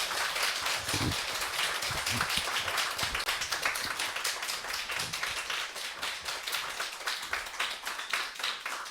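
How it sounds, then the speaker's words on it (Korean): A congregation at a Sunday afternoon church service claps to welcome the pastor: sustained, fairly close hand clapping falling into a rough shared rhythm, with no speech over it. "우리 큰 박수로 우리 목사님을 맞이하도록 하겠습니다"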